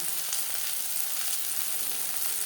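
Onion and tomato frying together in a pan for a Bengali puti fish and potato curry, giving a dense, continuous close sizzle with faint stirring and no voices.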